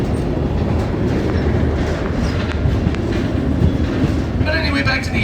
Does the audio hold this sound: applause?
no